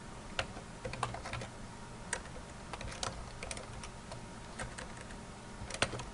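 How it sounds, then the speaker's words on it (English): Typing on a computer keyboard while entering an address into a letterhead document: irregular bursts of light clicking keystrokes, close and fairly quiet, with no talking. "I'm going to go ahead and start typing in my address."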